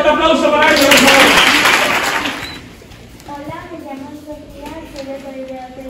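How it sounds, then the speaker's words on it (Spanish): Audience applause for participants at a children's reading event, a loud burst of many hands that fades after a couple of seconds as voices take over and chatter continues. "Un fuerte aplauso para ellos"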